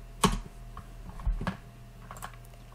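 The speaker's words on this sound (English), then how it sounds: "type Alt Enter, type in, let's say, Veterans Day as well" A computer keyboard is typed on in a few close, sharp keystrokes, two louder clusters of clicks followed by lighter taps, heard alone with a faint steady hum underneath.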